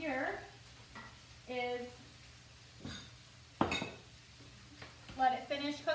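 Lettuce wrap filling sizzles and gets stirred in a pan, with scrapes and clinks of a utensil against the pan, brief bursts spread across a few seconds under intermittent talking.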